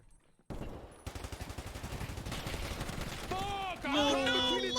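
Rapid gunfire rattles in a tight, continuous string during an Escape from Tarkov solo battle, moderately loud and then giving way to an excited voice talking over the game.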